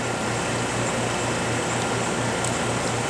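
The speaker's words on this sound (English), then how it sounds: "Turn the vacuum on." The vacuum on a K&S 4124 wire bonder with a Bausch & Lomb microscope runs as a steady, even hum with a faint pulsing low tone, continuous and unbroken under broadband hiss, with no talking.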